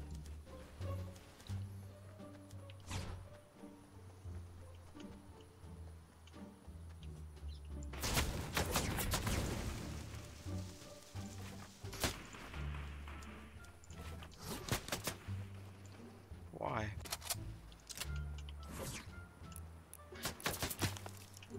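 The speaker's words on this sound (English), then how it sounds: "Why is he shooting?" Gunfire in the video game Fortnite cracks in scattered bursts: a dense flurry of shots, then sharp single and double reports spaced a few seconds apart, heard over quiet game ambience.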